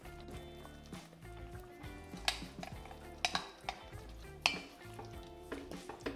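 A spoon stirs corn biryani in a cooking pot, giving soft scraping and a few sharp metallic clinks, quiet and intermittent over a faint tonal background.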